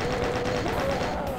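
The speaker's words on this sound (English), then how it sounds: "Chain gun around the corner." Chaingun fire in the Doom map 25 Years on Earth, a video game, is a steady, rapid stream of evenly spaced shots, loud and continuous through a brief burst.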